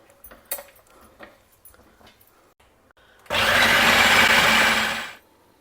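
Roasted spice ingredients for tomato thokku ground into powder in a mixer: faint clinks and handling sounds, then a loud whirring grind lasting about two seconds before winding down.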